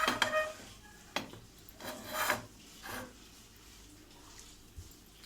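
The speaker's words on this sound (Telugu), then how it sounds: "లైట్ గోల్డ్ కలర్ వచ్చే వరకు ఫ్రై చేసుకుందాము" Peanuts fry with green chillies in a pan for a peanut chutney, heard as soft intermittent scraping strokes of stirring at close range with quiet gaps between them.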